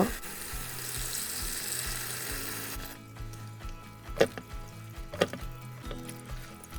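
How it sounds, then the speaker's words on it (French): Pieces of candied pomelo peel are rinsed in clear water: a kitchen tap runs steadily for about three seconds, then water sloshes and splashes as the pieces are handled in a bowl. "On va les rincer déjà une fois à l'eau claire."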